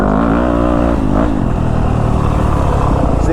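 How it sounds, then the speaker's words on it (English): A Honda-style 250F four-stroke dirt bike engine braking while riding down through the woods, a loud, close engine drone with pitch sliding down and wavering as the throttle closes, rough and continuous throughout. "I really like the engine braking of the 250F in the woods too"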